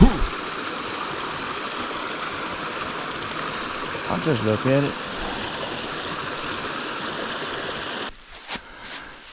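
A small side creek along a hiking trail between Turner Hollow and Lewis Prong rushes in a steady, close wash, with someone briefly speaking midway before the flow drops quieter near the end.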